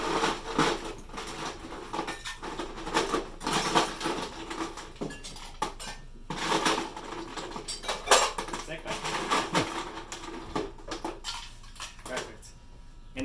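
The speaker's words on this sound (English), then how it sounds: "we are going to go ahead and add a nice little scoop of ice" Ice scooped into a metal cocktail tin for a blueberry-mint Collins, a run of bright clattering and clinking cube impacts in bursts, heard alongside a speaking voice.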